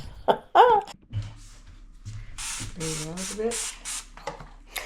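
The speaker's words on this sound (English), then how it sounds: "I'm using my Dawn Power spray, and I gave the tray a really good spray" A few sharp hissing bursts of Dawn Power spray cleaner onto a tray, close by, mixed with brief voice sounds and light handling noises.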